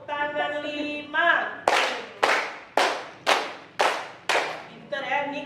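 A run of five crisp, evenly spaced hand claps close by, with someone talking just before and after the sequence.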